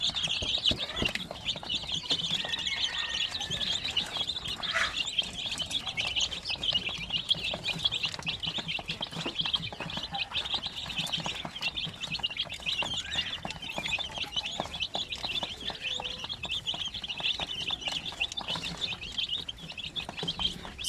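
Native chicken chicks peep and chirp continuously in a dense, overlapping chorus, close and lively throughout, with no one speaking.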